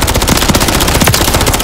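Rapid automatic gunfire from the Call of Duty Modern Warfare 3 Favela multiplayer map on PS5, loud, dense bursts of shots rattling continuously for under two seconds with no talk.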